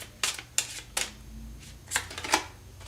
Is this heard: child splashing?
no